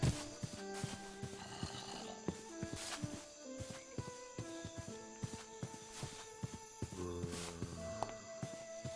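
Pigs in Terrafirmacraft, a Minecraft mod, let out short snorting grunts at irregular intervals over faint game ambience, with tonal in-game sounds drifting behind them, fairly quiet and close.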